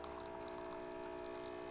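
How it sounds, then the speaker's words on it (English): A DeLonghi Perfecta coffee machine brews steadily, giving off a continuous liquid pouring and pumping hum with a faint trickle. It stays even and close throughout with no talking. "First few seconds is that pre-infusion, and then it's going to go straight into brewing."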